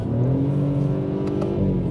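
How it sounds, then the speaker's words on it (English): A BMW three-cylinder turbocharged engine runs with no sound augmentation, giving a steady, close, throaty drone that holds an even pitch, heard alone. "This is the natural sound that comes from the vehicle."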